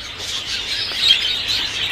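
Many small birds in an aviary chirp and twitter together while eating, a dense, steady chatter, moderately close, with no voices over it.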